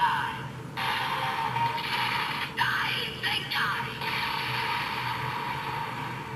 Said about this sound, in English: if you just activate the crank, it'll activate the Zenkai Finish Buster